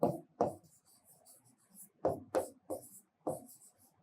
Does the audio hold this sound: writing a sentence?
yes